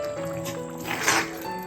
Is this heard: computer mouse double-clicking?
no